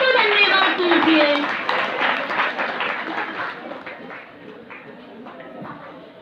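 A church congregation at a healing and prayer meeting claps loudly. A dense burst of applause fades gradually over several seconds, and a voice talks over the start.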